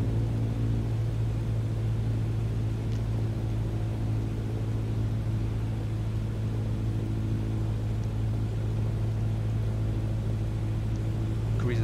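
Steady droning piston engine of a Cessna 152 light aircraft in Microsoft Flight Simulator 2020, held at an even hum on final approach with flaps extended, loud and continuous throughout with no talking.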